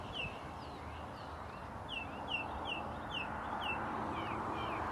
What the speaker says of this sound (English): See all the chickens back here